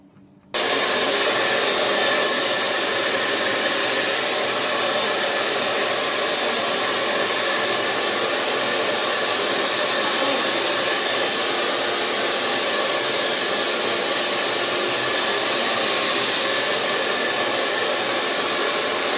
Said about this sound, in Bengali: তো চলো এবার ব্লো ড্রায়ার দিয়ে দেখাচ্ছি।